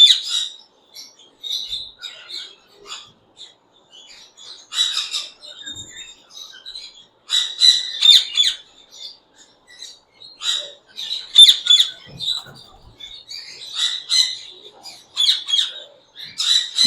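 A pair of white and yellow ringneck parakeets gives repeated shrill, raspy calls in bursts, loud and close, with brief pauses between squawks.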